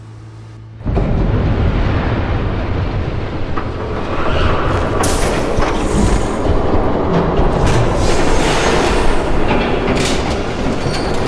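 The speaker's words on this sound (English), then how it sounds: "There's a train coming." A train roars past in the Batman Telltale game, arriving abruptly and staying loud and close, with rumbling wheels, rhythmic clatter and squeals over a constant heavy rush.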